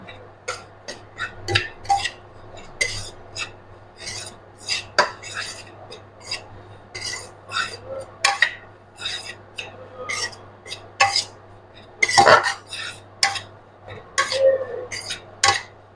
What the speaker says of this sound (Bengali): ভালো করে ময়দাটাকে নাড়াচাড়া করে ভেজে নিচ্ছি।